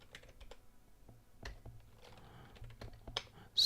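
Quiet, irregular tapping on a computer keyboard while typing terminal commands, with soft key clicks in uneven bursts and no voices.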